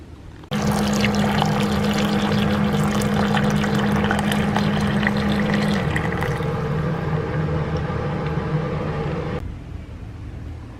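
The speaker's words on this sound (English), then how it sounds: "Now we just need to add some hot water and let it sit for a few minutes" Hot water poured onto Chinese herbal summer drink ingredients (roselle, smoked plum, hawthorn, osmanthus): a loud, continuous close pour lasting about nine seconds, its pitch shifting partway through as the vessel fills, then stopping abruptly.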